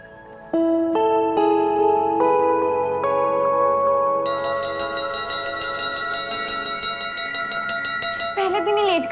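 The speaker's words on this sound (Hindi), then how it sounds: "10 मिनट से घंटी कौन बजा रहा था मंदिर में?" Temple bell struck repeatedly in a slow series, clear ringing tones that build and sustain into a dense shimmering wash, loud and close, with no talk over it.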